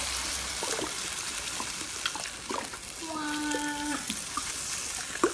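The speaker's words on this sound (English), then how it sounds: "now I'm going to pour in my egg whites" Egg whites pour into a pan during meal prep as a soft, steady liquid trickle, with a brief squeaky tone partway through and low background noise throughout.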